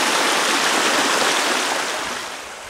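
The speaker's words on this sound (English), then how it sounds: "Mike, on the concluding ford, the upper Little Missouri River." The upper Little Missouri River rushes loudly and steadily over a ford, a broad close wash of flowing water that eases slightly toward the end.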